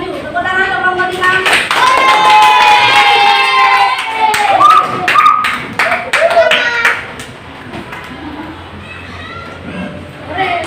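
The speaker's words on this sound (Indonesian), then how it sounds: "Tepuk tangan untuk kelompok 5" An audience at a group presentation session applauds group 5, with brisk hand claps mixed with lively voices and children's shouts, then tapering into quieter chatter.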